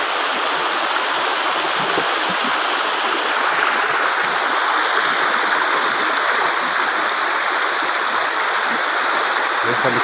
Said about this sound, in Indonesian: Kita lewat sungai. Sungainya enggak terlalu besar ya.